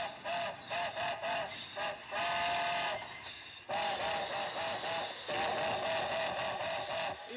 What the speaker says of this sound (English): This is a military supply train en route from Kyoto to Tokyo.